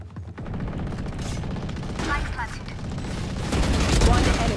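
Gunfire in the Valorant video game during a team match: continuous loud automatic fire and booming shots close by, swelling toward the end, with voices talking over it.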